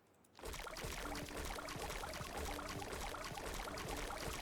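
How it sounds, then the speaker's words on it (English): Steady rushing water flowing through a diversion channel in the beaver colony game Timberborn, a continuous broadband wash with no voice over it. "Yeah, it's not the fastest of water, even though there's quite a lot."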